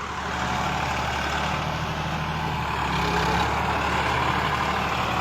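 A tractor works soil with a steady, loud, low engine drone and broad churning rumble that holds constant throughout, with no voices over it.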